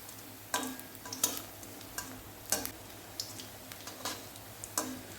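Crisp fritters of giant taro (man kochu) frying in oil: a quiet, soft sizzle under a series of sharp, irregular clicks and scrapes from a spatula turning them in the pan.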